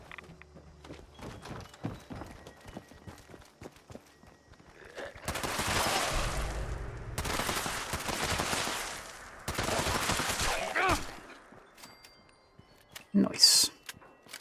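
Gunfire from a player's weapon loadout in the video game Fallout 76: three long, dense bursts of rapid automatic shots, each lasting a couple of seconds, separated by brief pauses, with quieter stretches of game sound before and after.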